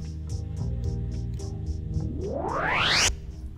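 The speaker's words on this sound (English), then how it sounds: "The idea is to make a rising filter sweep that would gradually open up higher frequencies." A synth filter sweep for a transition sound effect rises steadily over about a second as the sound brightens, over a repeating ticking beat and low drone, ending abruptly; no talking.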